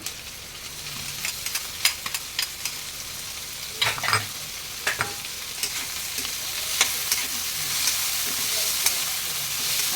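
Shredded chicken sizzles in a frying pan for pancit, with a constant soft frying hiss broken by sharp scraping and clinking stirs.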